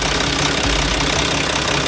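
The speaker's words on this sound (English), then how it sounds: "your engine's running good. I don't hear anything going bad on it." An older Mack truck diesel engine with a common rail system idles close by, a loud, steady rumbling drone with a low knocking pulse and no speech over it.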